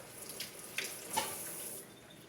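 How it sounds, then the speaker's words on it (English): Water from a kitchen tap runs briefly to dampen hands before cutting garlic, a soft steady hiss under 2 seconds long with a couple of small splashes, fairly quiet and with no talking. "just damp and wet your hands just a little bit with a little bit of water"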